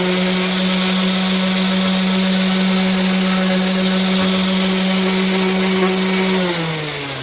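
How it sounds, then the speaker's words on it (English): A power sander working over a wooden cabinet panel for an outdoor kitchen, a loud steady motor whine with a constant hum that holds throughout and winds down slightly at the end. "and sand it very quickly."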